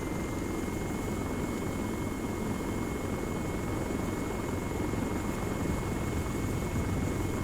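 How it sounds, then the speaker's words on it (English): A helicopter in the Arma 3 video game, a steady continuous rotor and engine drone throughout with a constant high whine, loud and unbroken, no voices. "since I hopped into a helicopter and started flying, I want to keep flying because I enjoy flying"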